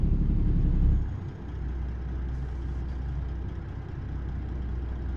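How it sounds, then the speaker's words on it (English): A truck engine in American Truck Simulator drones with a steady low rumble, louder for the first second and then settling into a constant hum with no speech. "I was busy listening to my truck"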